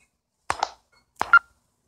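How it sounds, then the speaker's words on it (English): A phone goes off with two short electronic tone bursts about three-quarters of a second apart, clear and close against near silence. "And then Devil caused my phone to go off."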